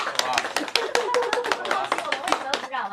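An audience claps in a loose, irregular patter of sharp hand claps over a few seconds, mixed with overlapping voices talking.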